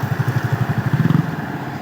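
A Cummins D10 diesel engine in a Howo tractor head runs close by, a low pulsing throb with a steady rhythm that swells briefly toward the end.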